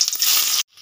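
Sliced onion hits hot mustard oil with a loud, bright sizzle that hisses steadily for about half a second, then cuts off abruptly into near silence with a faint crackle.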